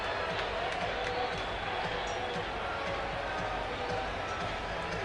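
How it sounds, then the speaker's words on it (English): Dense, steady roar of a large stadium crowd reacting during a Dodgers vs Diamondbacks baseball game, a continuous wash of noise heard from within the stands, with a commentator's voice under it. "I'm looking at the big screen here at the stadium, which is why the crowd is reacting the way they are"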